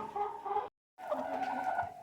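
Hens clucking close by inside a henhouse, a steady busy chatter of several birds broken by a short silent gap partway through.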